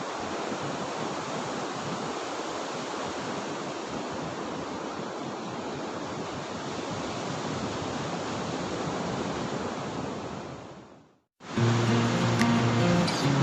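Ocean waves wash steadily onto Mutiara beach at sunrise, a dense continuous roar of surf that fades and cuts off abruptly near the end, followed by a different, busier sound.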